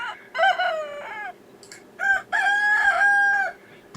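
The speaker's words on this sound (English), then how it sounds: "this is a sick sounding rooster" A rooster crows twice, close and loud, each call drawn out and slightly strained, with a short pause between them.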